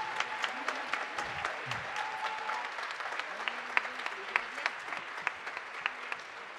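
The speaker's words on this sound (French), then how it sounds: "merci de l'applaudir" Dense, sustained applause from a concert audience at the Grand Rex, with sharp individual claps standing out over the steady wash of hands, plus a few faint voices underneath.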